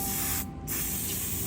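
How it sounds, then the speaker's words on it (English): Aerosol spray cleaner hissing steadily onto an engine camshaft, a loud continuous jet broken by one brief pause before resuming. "I'm going to spray down that camshaft,"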